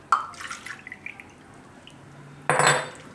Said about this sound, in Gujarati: જરૂર પડે એ રીતે પાણી નાખીને પાતળું ખીરું તૈયાર કરશું